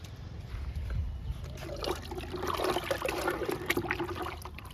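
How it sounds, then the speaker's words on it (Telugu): Liquid fertiliser trickles and splashes onto a potted jasmine plant, a soft, close pouring and dribbling sound that swells slightly over a few seconds with no one speaking. "లిక్విడ్ ఇస్తున్నా."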